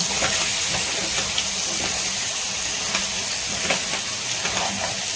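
Chettinad mutton sukka with shallots frying in ghee, a steady close sizzle with occasional crackles and stirring scrapes throughout.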